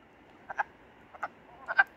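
Frogs croaking at a big pond, three short clustered bursts of calls spaced about half a second apart over quiet background, fairly close and moderately loud.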